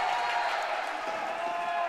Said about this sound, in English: Crowd beginning to get into it.